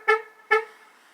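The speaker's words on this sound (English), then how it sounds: "and you can hear the horn" Two short, close honks from the horn of a 2009 Jeep Patriot, sounding as the lock button on the key fob is pressed, evenly spaced about half a second apart, with no voices.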